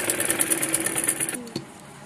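A sewing machine runs a quick, steady stitch on palazzo trouser fabric for just over a second before stopping, followed by a brief knock; close and moderately loud, with no talking.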